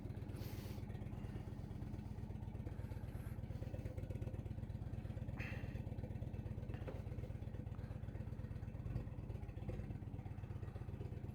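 A heavy Indian Roadmaster touring motorcycle of about 950 pounds runs with a low, steady, evenly pulsing engine throb, fairly faint and unbroken, with a few small clatters.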